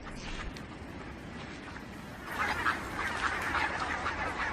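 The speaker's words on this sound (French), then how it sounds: "Canards, cygnes et foulques se rassemblent autour des dernières étendues d'eau encore épargnées par la glace" Ducks, along with swans and coots, gather on the last patches of unfrozen water in winter, giving a faint, continuous chorus of quacks and honks that grows busier and louder halfway through.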